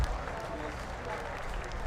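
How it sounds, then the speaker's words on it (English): A crowd in the stands at a high school football game applauds an injured player, a broad, steady patter of clapping spread across a large open space, with faint background noise beneath it. "So a round of applause"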